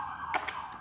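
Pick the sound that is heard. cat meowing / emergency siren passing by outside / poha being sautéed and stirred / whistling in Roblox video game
emergency siren passing by outside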